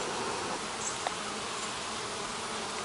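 Honey bees in a hive brood box, opened for a requeening inspection, make a dense, steady buzzing drone that stays close and even throughout, with no talk.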